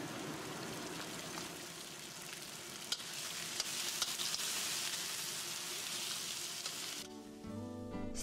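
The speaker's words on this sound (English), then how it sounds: "Stir-frying Yunnan home dish with fire." Spicy chicken with potatoes is stir-fried over a fire, giving a loud, continuous sizzle and crackle with scraping stirs, before the sound cuts away abruptly to quiet near the end.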